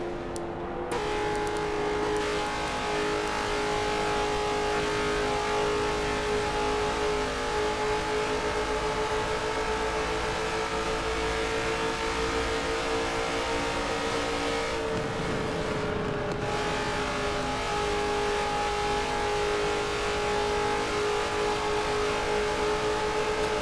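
Race car engines roar continuously on the Homestead-Miami oval, a steady loud drone with sustained engine tones and a brief surge as a car passes close by, one car said to sound rough and different from the rest.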